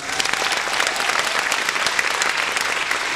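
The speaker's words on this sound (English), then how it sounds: "Give them a round of applause." A gala audience claps steadily, a dense, even burst of applause with no pauses.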